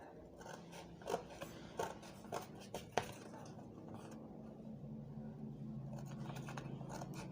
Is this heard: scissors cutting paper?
yes